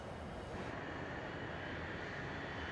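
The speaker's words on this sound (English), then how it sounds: "The DHL takes off at 6 minutes past 11 on what will be its last journey." A DHL Boeing cargo plane takes off with a steady, broad engine roar. The sound is distant and fairly faint, continuous throughout, with no speech.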